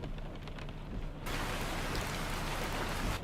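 Steady rain falling in the American Truck Simulator driving game, a dense continuous hiss of drops on the truck that swells slightly louder partway through, with no talk.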